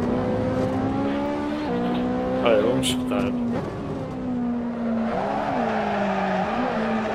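A GTR race car slides sideways in a drift, its engine note holding and shifting while tires squeal sharply in the middle; someone speaks briefly at the start over the car.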